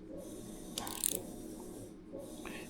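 Ratchet wrench tightening the handlebar clamp bolts on an ebike, quiet close clicking ratchet strokes with a brief metallic rattle partway through, with no talk.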